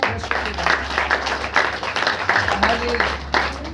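A church congregation claps steadily throughout while a preacher speaks over it, with a low hum underneath.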